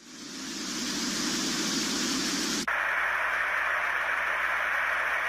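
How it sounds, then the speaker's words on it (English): Steady hissing tinnitus masking noise from a Widex hearing aid plays continuously, then abruptly switches to a brighter, differently shaped hiss, Zen noise, that carries on evenly to the end. "Widex also has what they call Zen noise, which is more like a traditional masker"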